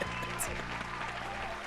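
A game show's canned crowd applause sound effect, a short, steady burst of clapping at low volume with a faint musical tone underneath.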